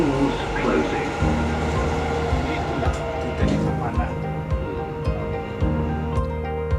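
Interior of a Dubai driverless metro train in motion, a steady low rumble with periodic rail joint thumps and track noise throughout, close and continuous, with faint voices or announcements over it.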